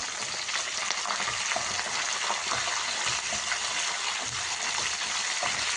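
Curry leaves with dried red chillies fry in hot oil in a pan, a loud continuous crackling sizzle with occasional stirring scrapes, close and alone without speech.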